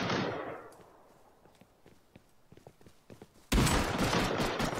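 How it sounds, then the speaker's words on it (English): Gunfire in the survival game Rust: scattered sharp shots crack out at moderate distance, then a sudden loud, dense burst of rapid fire erupts close by and keeps going. "I was wondering who the heck is shooting at me"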